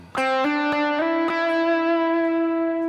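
Electric guitar on an effects-laden worship tone plays a short solo line of four or five clearly picked notes. The last note rings out and sustains, and no one talks.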